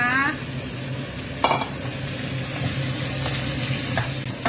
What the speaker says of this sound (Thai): ผัดตับหมูใส่ ดอกหอมค่ะ